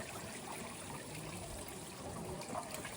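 Filtered water splashes and trickles in a steady, faint stream. The wash of flowing water is continuous, with no voices over it.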